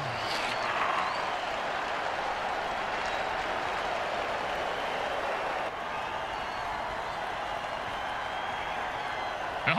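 A stadium crowd at a football game roars and applauds in a continuous dense wash of cheering and clapping, sustained and fairly distant throughout.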